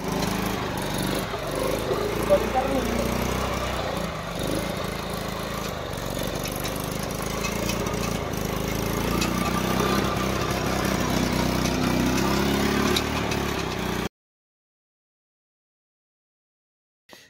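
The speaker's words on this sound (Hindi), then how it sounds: "और ये रहा स्कूटर, सेकेंड हैंड स्कूटर है इसको।" A second-hand Hero Honda scooter engine runs at a workshop, a steady close mechanical drone for about fourteen seconds before cutting to silence.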